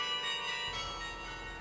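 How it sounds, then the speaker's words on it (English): Church bells of the carillon at the neo-Gothic cathedral in Cobh, installed in 1916, ring out in a short, steady, resonant passage with sustained tones and no voices. "the putting in of the carillon of bells and the clock mechanism"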